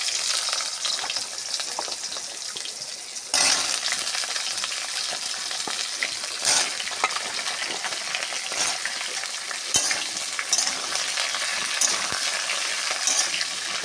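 Potato, eggplant and pumpkin pieces sizzling in a pan of hot oil, a steady loud frying hiss with occasional clinks and stirring scrapes of a utensil.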